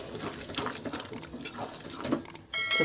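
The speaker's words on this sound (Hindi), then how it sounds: "अब इसमें जो पानी बचा हुआ था वो पानी इनको ऐड कर देना है।" Leftover water is poured from a vessel into mashed pav bhaji vegetables, a soft continuous splashing and trickling close by, ending in a louder gush.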